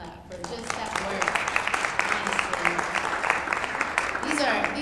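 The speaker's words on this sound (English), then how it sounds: "I just want to just give them a clap for just that" A conference audience claps in appreciation of community work, with a sustained patter of applause mixed with some talking and cheering.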